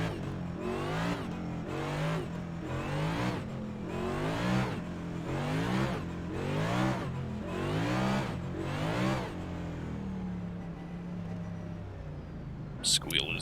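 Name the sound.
race car tire squeal in iRacing video game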